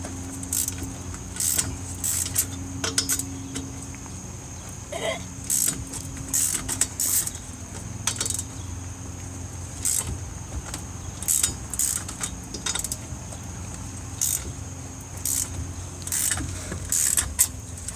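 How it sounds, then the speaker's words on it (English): A lug wrench works the lug nuts loose on a 2008 Chevy Cobalt front wheel, giving repeated sharp metallic clicks and clanks over a steady low background hum, close and irregular throughout. "You want to break the lug nuts loose because the wheels will just spin once it's up in the air."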